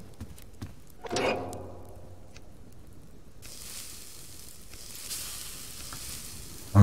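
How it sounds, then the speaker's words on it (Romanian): Meat frying on a cooking fire in the survival game Subsistence: a steady soft sizzle and crackle rises in the second half, preceded by a brief clatter, with no talking. "Să punem asta la prăjit."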